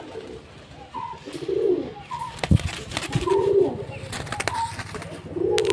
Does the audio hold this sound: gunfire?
no